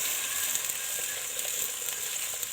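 A steady, hissing bubbling sizzle from a pot of Turkish yuvalama soup boiling on the stove, continuous and moderately close, with no voices.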